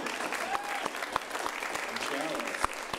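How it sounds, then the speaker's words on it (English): Crowd at a live comedy fight show applauds a performer's printed shirt, sustained clapping with a few sharper claps standing out, moderately distant, with cheers and voices woven through. "give a round of applause for the print of the shirt"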